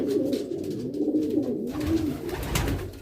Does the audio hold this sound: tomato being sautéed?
no